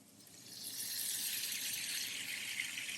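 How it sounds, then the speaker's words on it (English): Mushroom cooking liquid poured back into a pan, a soft steady trickle and hiss that swells after a moment and continues evenly, quiet and close with no talking. "I'm just going to pour that back in"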